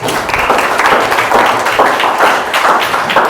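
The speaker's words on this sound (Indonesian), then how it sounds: "beri tepuk tangan untuk kelompok 3" A classroom audience claps for a presenting group during a mathematics teaching session, a dense, steady patter of hand claps lasting throughout, fairly loud and close.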